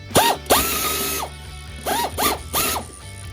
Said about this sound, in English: we got the air ratchet installed, and we're just going to tighten up that pulley